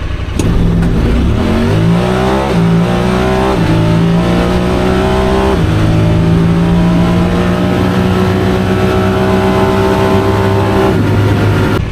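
A tuned Pioneer 1000 side-by-side accelerates hard in high-range four-wheel drive, its loud, close engine note climbing in pitch with several distinct steps as it shifts, then holding a steady high drone.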